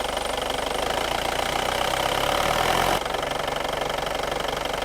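A used car's engine running in a dealer's lot, a steady mid-pitched drone that rises slightly then drops abruptly to a rougher idle with a faint ticking knock.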